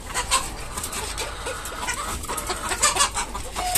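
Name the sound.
hill chickens clucking on farm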